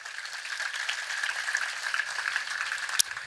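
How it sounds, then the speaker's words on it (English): Engineers' Day audience of computer science and IT students clapping in a hall, a steady dense patter of many hands at moderate level throughout, with one sharper clap near the end. "can you clap for yourself?"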